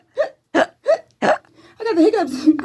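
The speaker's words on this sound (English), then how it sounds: "I got the hiccups." Four sharp, evenly spaced hiccups up close, followed by a voice speaking right after.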